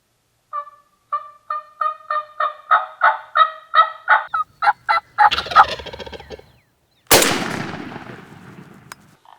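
Mouth call imitating a wild turkey in spring: a rapid series of clear yelps building in loudness, then a rolling, gobble-like burst, a short pause and a loud raspy cutt that trails off, all close and with no talking.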